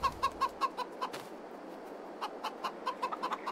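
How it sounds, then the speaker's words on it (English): Chickens in a farming video game cluck in quick repeated bursts, a steady rhythmic series near and clear, pausing briefly mid-stretch before resuming. "We've got more chickens,"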